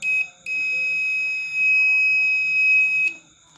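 A multimeter's continuity buzzer sounds a loud, steady high-pitched tone while testing a corroded trace on an LG TV circuit board, breaking off briefly twice before resuming, with no talk.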